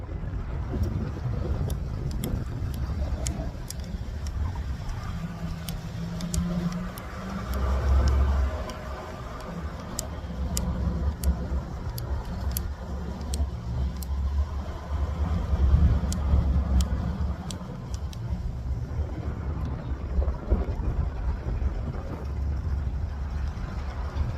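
A 1963 Oldsmobile F-85 cruises along quietly with a low, steady engine and road rumble, mixed with wind buffeting and occasional light clicks, heard from inside the car at a moderate level.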